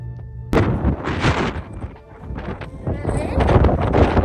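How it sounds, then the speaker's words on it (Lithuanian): Strong gusting wind batters the microphone in an outdoor spot near a docked ship, roaring loudly and unevenly from about half a second on, with a person talking through it. "vėjas neša."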